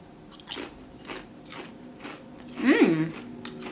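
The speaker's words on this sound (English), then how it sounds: "now you're eating miso flavored Pringles?" Miso cup ramen flavor Pringles chips crunched close to the mouth, a few crisp bites and chewing crackles, with a voice humming and speaking briefly over them.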